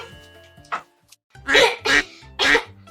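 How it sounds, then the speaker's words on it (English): Several short, harsh coughs in a row, the last three loud and close, after a brief quieter sound and a pause. "It's a cough."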